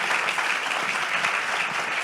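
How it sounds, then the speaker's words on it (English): An audience at a national birthday celebration applauds the panel members, a dense, steady clapping that holds at full strength for the whole stretch. "Let's have a round of applause for our fantastic panel members"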